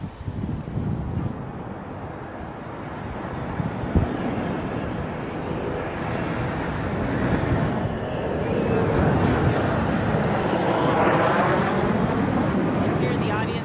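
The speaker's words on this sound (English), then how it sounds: "Absolutely thrilling to see that airplane come down from its first flight." A Boeing 737 MAX 8 lands at the end of its first flight, a broad, rising jet roar mixed with wind noise that swells and holds loud toward the end.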